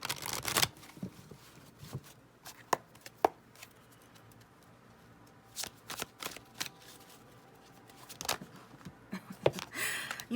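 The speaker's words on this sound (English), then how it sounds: "Let's shuffle one more time." Tarot cards are shuffled in quick riffling bursts, separated by soft taps and pauses, close and fairly quiet with no talking.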